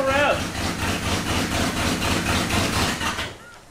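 A long-stored old muscle car, sitting 33 years and running on stale gas, churns with a steady, rough engine drone that pulses in a loose rhythm, with a short voice at the start before it tapers off.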